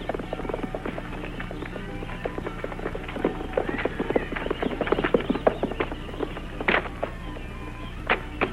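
Horses' hooves clip-clop on the ground after a ride, an uneven run of fairly close, sharp knocks that thickens in the middle, over a low steady background.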